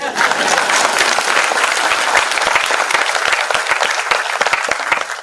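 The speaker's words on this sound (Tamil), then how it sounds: "நீங்க கொஞ்சம் கம்மியா கைத்தட்டுறீங்களோ?" An audience at a Tamil speech event breaks into sustained applause, many hands clapping loudly and densely from start to finish, with some voices mixed in underneath.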